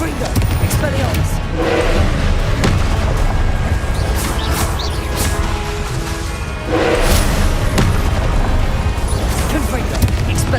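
Repeated Confringo spell explosions in the video game Hogwarts Legacy, dense booming blasts and crashes rising in bursts over continuous loud game action and music.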